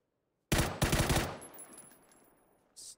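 Gunfire in the battle royale game PUBG: a sudden close burst of several rapid shots that rings out and fades over a couple of seconds, with no talk.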